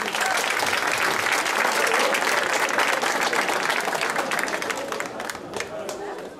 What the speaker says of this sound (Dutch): Geef zoals jullie een hartelijk applaus.